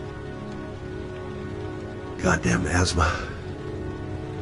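Steady rain falls in the video game Heavy Rain, a continuous hiss throughout, with someone briefly speaking over it midway.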